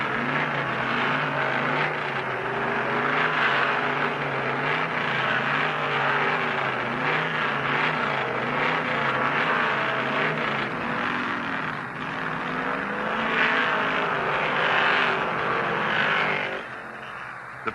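An AMC Matador race car driven by Mark Donohue for the Penske team roars steadily and loudly, its engine note wavering up and down in pitch as it races, with no break until a slight drop near the end.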